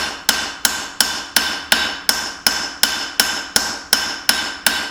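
Evenly spaced hammer blows ring out on hot steel while forging knife bevels, about a dozen loud close strikes with ringing decay, no voices.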